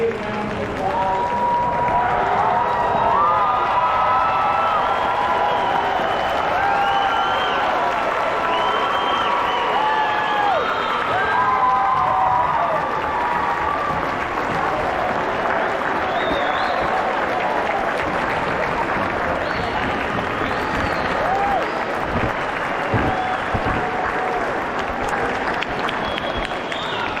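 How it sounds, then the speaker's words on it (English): A large graduation crowd at Kent State applauds and cheers in a loud, sustained wash of clapping that holds steady throughout, with scattered shouts rising out of it. "Graduates, please stand and give a big round of applause."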